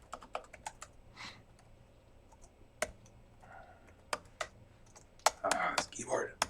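Quick, irregular clicks of typing on a computer keyboard during a live coding stream, clustered in short bursts with a few louder key presses, heard close and fairly quiet.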